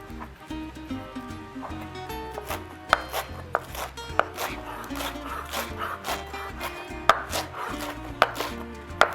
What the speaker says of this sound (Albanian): Më duhet ta pres imët edhe salantron.